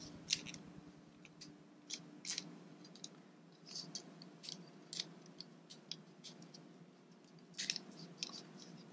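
Inside a late-2012 Mac Mini, a cover is peeled back during a hard drive upgrade, making faint, sparse crinkling and clicking snips against a low steady hum, quiet and close.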